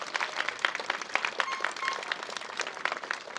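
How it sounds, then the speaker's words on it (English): Applause from an audience of students, families and teachers at an elementary school moving-up ceremony, a dense, steady wash of many hands clapping that continues throughout with a few brief voices mixed in. "Give yourself a round of applause"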